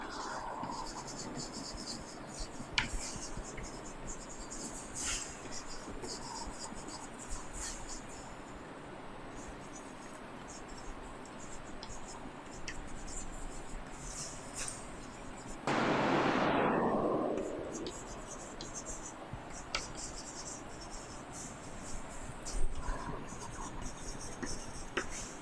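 Marker or chalk writing on a board during an English grammar lesson, faint scratchy strokes scattered under quiet background, with a louder burst of rubbing around the middle.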